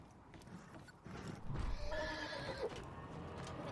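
A horse in the video game Borderlands whinnies loudly in a single drawn-out neigh over clip-clopping hooves, the call rising in the middle of the clip against a busy game soundscape.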